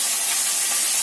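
Nigella seeds dropped into hot oil give a loud, steady hiss of sizzling, close and unbroken for about a second.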